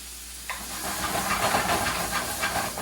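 Onions frying in oil in a pan for Peruvian arroz con pollo give a steady close hiss and sizzle that swells after a quiet start, with no talking.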